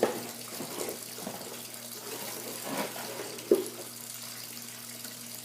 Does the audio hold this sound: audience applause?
no